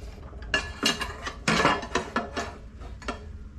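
Metal clicks and ratcheting clatter from tightening the lock on a Bauer 14-inch drop saw, a series of sharp, close mechanical snaps in irregular bursts with no talk over them.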